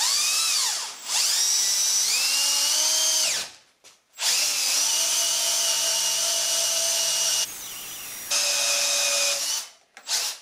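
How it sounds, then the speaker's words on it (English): A power drill bores holes into a cap clamped in a vise for a DIY solar shower. It whines in several long, loud bursts, with the pitch sagging under load, brief pauses between bursts and one sharp cutoff. "I have a vise set up to hold the cap while I drill"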